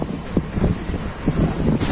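Wind gusts across the microphone outdoors beside a village river in the monsoon season, a close, rumbling buffeting with several brief bursts.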